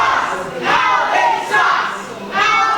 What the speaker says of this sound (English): Crowd sharing their feelings.